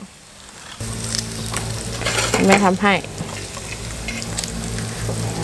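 Pork sizzles and crackles steadily on a hot Thai barbecue grill pan, close by, with a short voice speaking briefly in Thai partway through over the frying.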